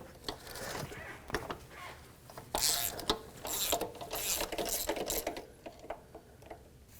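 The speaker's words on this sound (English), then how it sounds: "I'm gonna go ahead and remove this with a 19mm socket." A 19mm socket on a ratchet wrench loosening the coolant temperature sensor on a Chrysler Sebring, heard as close, uneven bursts of metallic ratcheting clicks and scraping with short pauses between strokes.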